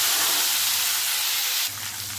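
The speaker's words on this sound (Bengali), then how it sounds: "তেলের মধ্যে দেবো টমেটো কুচি," Chopped tomato sizzles in hot oil with whole cumin, dried red chilli, bay leaf and green chilli. A loud, bright, continuous frying hiss runs throughout and steps down slightly near the end.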